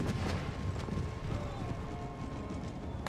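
Cavalry horses move across the battlefield in Empire Total War, a busy patter of hooves clip-clopping in a steady mass under a faint whinny, with a voice talking over them.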